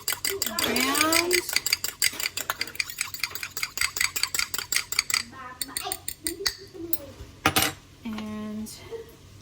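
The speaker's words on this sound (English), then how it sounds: "so we'll mix this egg" An egg stirred briskly with a utensil against a bowl for an egg wash, giving rapid, steady clinking and scraping strokes up close, with a few louder knocks and some brief voice sounds near the end.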